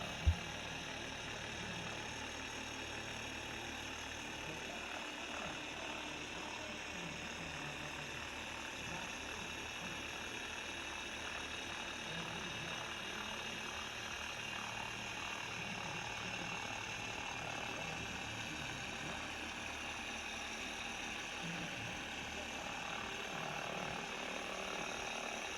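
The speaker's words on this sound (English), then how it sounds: "The polisher is only on in between its second and third speed." A car polisher runs steadily between its second and third speed while working over clear coat. The whir is faint and continuous, with an even mechanical texture and no talking.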